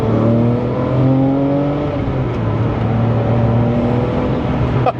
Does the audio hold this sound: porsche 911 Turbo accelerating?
yes